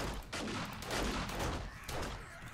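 Sustained burst of game gunfire in 7 Days to Die, a dense continuous rattle of rapid shots during a zombie wave, loud and close with no clear gaps over the whole stretch.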